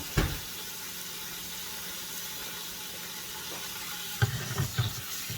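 Fat-on pork loin searing in a hot pan, giving a steady broadband sizzle throughout with a few louder pops and crackles near the end, close up and with no talking.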